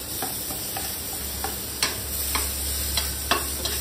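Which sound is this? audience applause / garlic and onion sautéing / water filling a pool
garlic and onion sautéing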